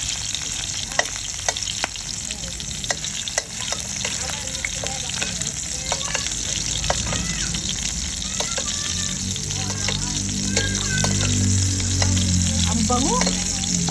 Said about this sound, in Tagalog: Pinirito ko na lang para mas mabilis.